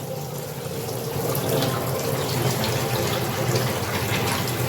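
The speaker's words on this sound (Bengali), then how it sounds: "আমি আবার একটু বারবারই চাল ধুই, যাতে চালের সমস্ত ময়লা একদম বেরিয়ে যায় জলের সাথে।" Rice being washed in a pot under a running tap, steady splashing and sloshing of water close by, growing a little louder after the first second, no talk.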